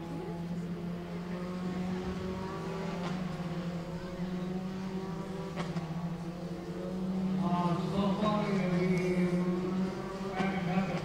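Formula 4 single-seater race cars drone past on a circuit, with a sustained engine whine that rises and shifts in pitch, heard at a moderate distance under a commentator's voice.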